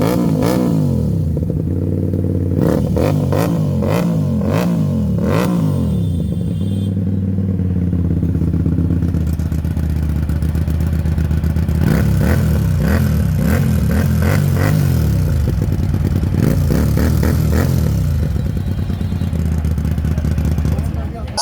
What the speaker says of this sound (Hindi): फाइनली मैं आपको साउंड सुना दूँ इसका एग्जॉस्ट का।